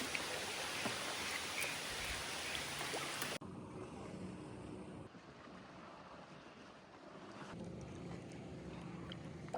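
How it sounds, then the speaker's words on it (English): A sudden rain shower outdoors at a lake in Nicaragua, heard under shelter of a tree, dense hissing patter that is loud at first, then drops abruptly to a softer steady rainfall with wind. "The rain just came out of nowhere. I'm getting soaked."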